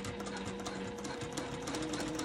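A sewing machine top stitches along the edge of appliquéd English paper pieced hexagon fabric, making a steady, continuous mechanical whir with rapid needle ticks, close and loud with no talk.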